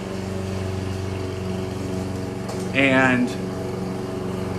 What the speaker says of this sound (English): my son keeps running the mower the opposite direction with the chute blowing towards the